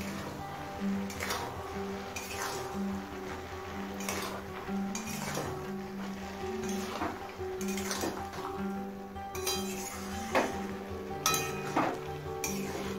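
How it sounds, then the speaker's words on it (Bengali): A lid comes off a cooking pot of ash gourd ghonto with hilsa fish head, bringing metallic clinks and clatters of utensils against the pot over a soft simmer, with music playing underneath. "5 মিনিট পর ঢাকাটা খুলে নিচ্ছি"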